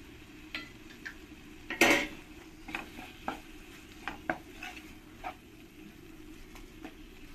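A pan of spices being sautéed with salt and turmeric for a Bengali katla fish head and mung dal curry, with a soft sizzle under it and scattered spoon scrapes and clinks against the pan. No voice is heard.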